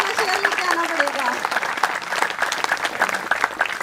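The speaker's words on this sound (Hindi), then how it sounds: "आपकी तालियों से ऐसा लग रहा है जैसे और ज्यादा अच्छे वाला शेर लेके आना पड़ेगा।" An audience at a cultural program during a festival applauds. The clapping is dense and continuous, with the crowd at a moderate distance and a voice faintly audible beneath it.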